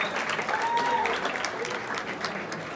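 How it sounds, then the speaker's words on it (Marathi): An audience claps loudly and steadily at a Ganeshotsav traditional day competition at a school academy. The dense applause lasts the whole stretch, with faint voices mixed in. "सर्वांनी जोरदार टाळ्या वाजवायच्या सर्वांसाठी."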